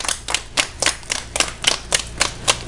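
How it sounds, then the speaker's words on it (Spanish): Hospital staff clap to celebrate radiologist Mario Mayorga's recovery, with about ten sharp, evenly spaced claps in a steady rhythm, fairly close and clear. "Un aplauso."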